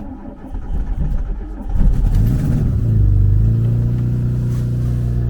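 A car that stood unused for months, fresh battery fitted, cranks briefly and catches, then settles into a steady close idle with a low rumble that holds for several seconds.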